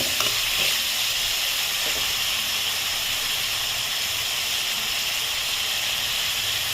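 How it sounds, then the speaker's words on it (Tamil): Onions sauté in a pan for radish sambar before the tomatoes go in, a steady, dense hissing sizzle close up that carries on without a break. "வெங்காயம் நல்லா வதங்கிட்டுருக்கு. நல்லா வதங்கினதுக்கப்புறம் தக்காளியை போடணும்."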